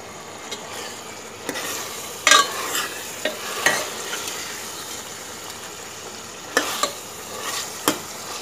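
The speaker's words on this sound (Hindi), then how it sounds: "ये देखिए अब ये कीमा अच्छे से भुनने लगा है" Mutton keema frying with softened tomatoes in a pan, a continuous sizzle broken by several loud spoon scrapes and clanks as the mince is stirred, close and clear.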